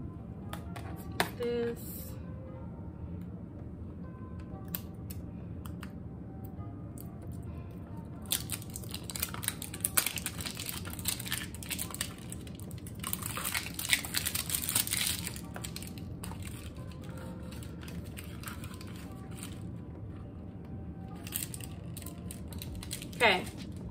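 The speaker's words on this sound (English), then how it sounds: "I'm going to open up my tape now." A roll of tape is opened and pulled out while making a cardboard shirt folding board, giving crackly, ripping bursts that grow dense in the middle stretch over a low background hum, with brief talk near the start.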